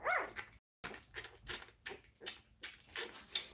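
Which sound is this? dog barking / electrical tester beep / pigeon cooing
dog barking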